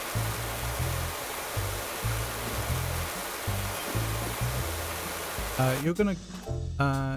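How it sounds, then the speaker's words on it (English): Steady rushing water fills the scene as a continuous, even hiss, and a voice starts speaking near the end. "like the sound of water"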